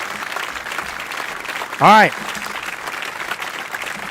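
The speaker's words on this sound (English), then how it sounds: "Round of applause" Short burst of crowd applause sound effect, about a second long, dropped in between stretches of someone talking.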